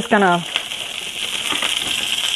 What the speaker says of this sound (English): I'm just gonna saute it around for just long enough to let it wilt down